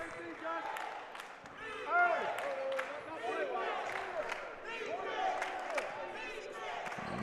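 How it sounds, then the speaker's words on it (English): Crowd noise from spectators at a men's college basketball game in an indoor arena, a steady murmur of cheering and shouts that swells briefly, with an announcer talking over it throughout. "Hear the crowd getting into it."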